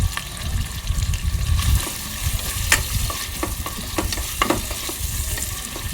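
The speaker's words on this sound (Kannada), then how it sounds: "ನೋಡಿರಿ ಉಳ್ಳಾಗಡ್ಡಿ ಫ್ರೈ ಆಗತ್ತೆ." Sliced onions frying in hot oil in a pan for a quick home-style biryani, a steady close sizzle with scraping stir strokes and occasional sharper pops, no voices.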